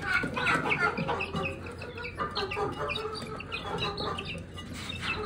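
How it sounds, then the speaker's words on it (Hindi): Shamo chicken chicks peeping and clucking in a dense, continuous chorus of many birds close by, with faint background noise and no clear talk. "ये उनकी सारी ब्रीड ली हुई है। ये इनके बच्चे हैं, वो ये चिक्स हैं उनके"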